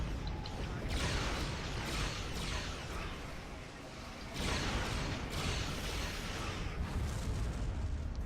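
Repeated heavy starship cannon rapid fire in Star Trek Online, a run of rumbling energy bursts in steady pulses with a brief lull midway, faint and under occasional speech.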